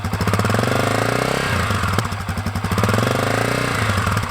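A Honda CRF250F dirt bike engine revs loudly and close by, its throttle rising and falling in short surges over a rough idle.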